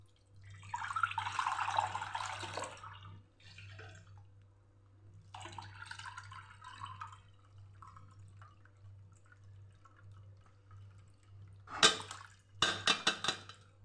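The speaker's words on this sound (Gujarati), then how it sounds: "એક બાઉલની અંદર આપણે હવે ગાળી લઈશું" Spicy pani puri water being strained into a bowl in a kitchen, with soft pouring and trickling, a few pauses, and closing clinks and drips of a utensil against the bowl.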